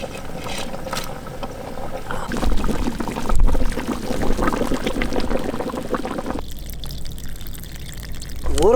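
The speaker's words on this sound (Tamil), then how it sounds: "ஊற வச்சு அரிசி அப்படியே உள்ளே இறக்க வேண்டியமக்கா." Soaked rice goes into a pot of mutton big-leg biryani with a loud wet sloshing pour that swells midway and continues steadily, then shifts to a quieter bubbling hiss near the end; no speech.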